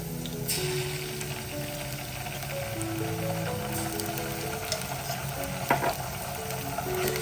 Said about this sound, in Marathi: आपण याच्यामध्ये आलं लसणाची एक चमचा पेस्ट घालूया